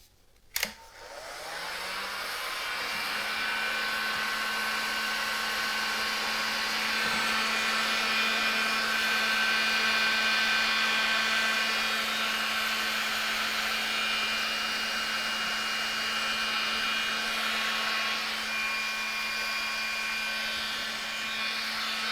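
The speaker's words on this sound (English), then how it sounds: "this is the fuel tank and this is a heat gun." A heat gun clicks on and blows hot air at a KTM 390 Adventure R motorcycle fuel tank, a steady loud whooshing hum with a constant motor whine held close, with no speech.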